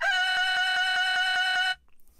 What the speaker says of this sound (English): I have the rooster sample with a little loop running on it